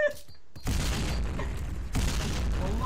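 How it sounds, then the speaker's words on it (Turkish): A bomb blows up in the online shooter Point Blank. Two heavy, booming blasts land about a second apart after a short near-silent gap, each loud and sustained, with voices mixed in. "Allah bomba patladı."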